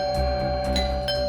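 A doorbell chimes again and again in quick succession, several bright ding tones sounding over a steady electronic hum with no talking.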